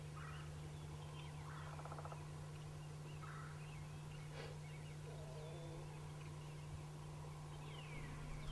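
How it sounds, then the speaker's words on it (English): A wild turkey gobbles several times at close range during a bow hunt from a pop-up blind, with rattling bursts spaced a second or two apart over a steady low hum. "this turkey is plenty close right here"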